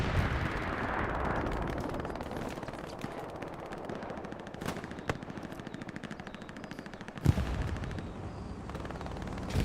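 Rapid machine gun bursts and scattered rifle shots crackle through a busy WWII battle in the video game Hell Let Loose, with a few sharper, louder reports standing out amid continuous distant gunfire.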